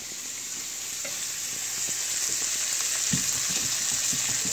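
Pork chops searing in a hot pan, a loud steady hiss of sizzling fat that swells partway through, with a few light crackles and pops close by.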